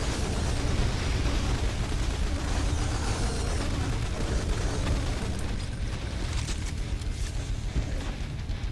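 Autocannon fire against a swarm of Cacodemons in the Doom mod Project Brutality, a dense, continuous roar of rapid blasts and explosions filling the whole stretch without pause.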